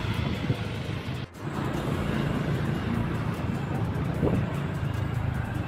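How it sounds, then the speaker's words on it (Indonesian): Dense, slow-crawling car traffic at a stop on the road to Malioboro, a constant low engine and road rumble with a brief dip, steady and nearby. "Kondisi lalu lintas ini padat merayap seperti ini."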